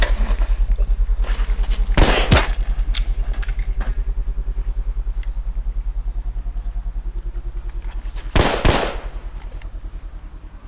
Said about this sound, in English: One of my favorite things to work on is gunshot effects, so here's a scene with those.